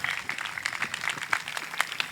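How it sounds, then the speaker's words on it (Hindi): An audience claps steadily through a Hindi spiritual talk on stress relief, producing a dense, continuous patter of many hands with brief louder swells. "ताली बजाएं"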